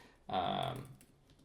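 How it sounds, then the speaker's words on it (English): Quick burst of computer keyboard typing lasting about half a second, fairly close and moderately loud, then fading into quiet room tone. "we'll do some exciting typing here"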